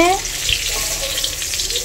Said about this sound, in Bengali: কুমড়ো ভাজা নাড়ছি